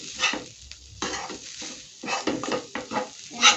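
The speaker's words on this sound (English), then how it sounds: "So continue stirring just for" Meat filling for homemade samosas stirred in a pan, with a scraping spoon over a soft sizzle, heard close in a few irregular strokes with short pauses between them.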